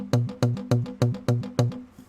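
A series of about seven sharp, hollow pops from a well-sealing saxophone's F key snapping shut, evenly spaced and close up, each with a brief resonant ring.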